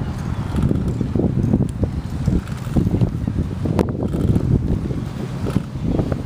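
Strong gusting wind buffets the microphone during a bike ride, with a constant heavy rumble and uneven, surging blasts throughout.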